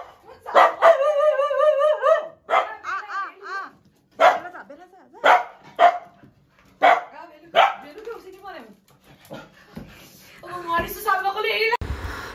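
An excited dog at home barks in loud, close bursts, some yelping and whining, with people talking around it.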